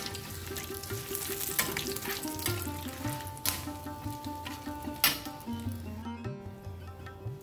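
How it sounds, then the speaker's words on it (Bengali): Whole cinnamon, cloves and green cardamom drop into hot oil in a pan for a Bengali prawn malai curry, giving a steady close crackle and sizzle with small clinks and stirring scrapes throughout. "তেলটা দেখো গরম হয়ে এসছে। এই সময় আমি এর মধ্যে দিয়ে দেবো দারচিনি, লবঙ্গ, ছোট এলাচ,"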